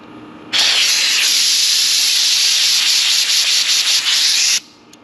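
Compressed air rushes steadily through an open-flow LOCKNFLATE locking air chuck, a loud, close hiss that starts abruptly, holds for about four seconds, then cuts off.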